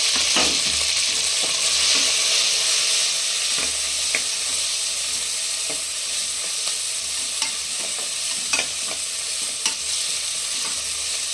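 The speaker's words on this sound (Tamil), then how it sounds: "ஒரு பிரியாணி இலை, ஒரு பச்சை மிளகாய், கொஞ்சம் புதினா எல்லாம் போட்டு நல்லா வதக்கிடலாம்." Ginger garlic paste, a bay leaf, a green chilli and mint fried in a pan for chicken biryani, a steady close sizzle with scattered scraping stirs throughout, no voices.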